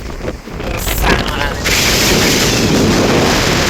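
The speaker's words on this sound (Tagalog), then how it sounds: "Lakas ng hangin." Strong desert wind in Qatar roars and buffets the microphone in a loud, continuous rush, with a heavier gust early on.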